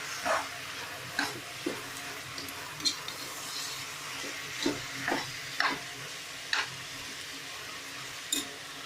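Vegetable biryani masala being stirred with thick curd in a pan, a soft steady sizzle broken by a series of wet scraping stir strokes at irregular intervals, close and moderately quiet.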